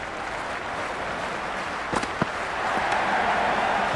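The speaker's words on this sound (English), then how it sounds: "Will you listen to that crowd? They are loving this." Stadium crowd in the Real Cricket 26 video game during an India versus Pakistan T20 World Cup match: a steady, dense roar of cheering holds throughout, with a couple of sharp clacks near the middle and a slight swell toward the end.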